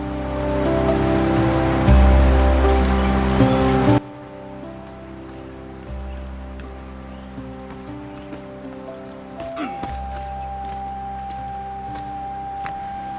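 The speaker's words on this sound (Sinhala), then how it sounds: "අර තියෙන පහලින් ගලන ඇල්ලකුත් අපිට බලා ගන්න පුළුවන්" A waterfall flowing below a forest trail on the way to Kalugala, a steady broadband rush of water that is loud for four seconds, then drops to a fainter continuous wash with a tonal hum over it.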